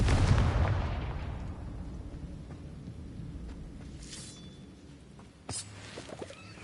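Confringo explosion spell in Hogwarts Legacy, a single sharp blast at the start that rolls off into a long fading rumble, followed by faint scattered crackles and a smaller pop.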